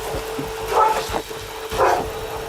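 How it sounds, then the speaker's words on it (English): A dog barks a few times inside a house during a police search, two or three loud, close yelps over a low engine-like hum. "I'm gonna yank you out as this dog comes down."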